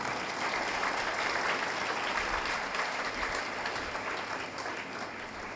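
A church congregation at a Sunday Mass applauds loudly for parents, a full, even wash of clapping that holds throughout and eases slightly toward the end.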